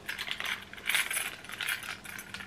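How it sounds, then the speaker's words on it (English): Keys on a key ring jangle and clink as they are pulled from a Burberry tote handbag, bright metallic rattles in several close bursts with no voice. "I have keys to our house."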